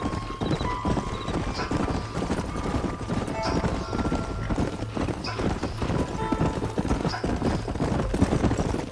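Horses' hooves trot in a steady, continuous clip-clop over a dusty Old West trail in Red Dead Redemption, with a brief whinny in the mix and a rider's voice speaking over the hoofbeats.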